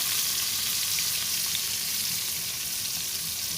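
Sliced onions fry in hot oil in a pan, a steady bright crackling sizzle holding evenly at close range with no talking.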